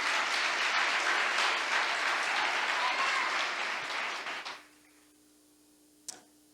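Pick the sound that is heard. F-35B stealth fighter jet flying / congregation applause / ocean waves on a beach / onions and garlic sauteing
congregation applause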